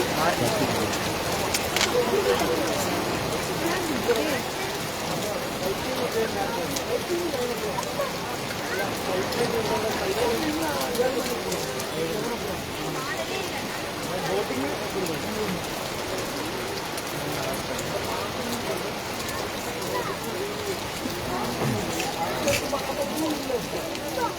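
Evening summer rain in Kodaikanal, a steady, dense patter of drops on surfaces lasting throughout, with faint talk in the background.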